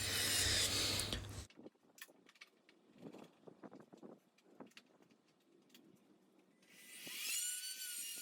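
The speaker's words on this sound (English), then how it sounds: "I cut out all the hinge pockets there with that jig and the router" A router cuts hinge pockets into a front entry door using a hinge jig, a loud high whine at the start that stops, then comes back near the end, with quiet clatter between.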